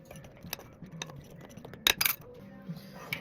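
Baking powder is mixed into cornbread dry ingredients in a bowl, heard as sparse, close clinks and taps of a utensil against the bowl, with a brief cluster of sharper knocks in the middle.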